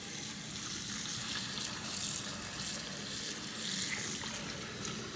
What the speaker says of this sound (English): So I'm gonna put cold water in.